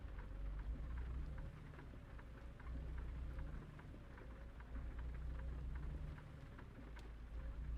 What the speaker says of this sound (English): Our first rain of the game.